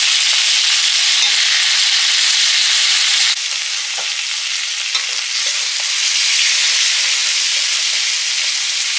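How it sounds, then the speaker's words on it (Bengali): Prawns fry lightly in a pan, a loud, steady sizzle in hot oil, constant hissing with faint crackles and a slight drop in intensity partway through. "হালকা করে ভেজে নেবো একদম"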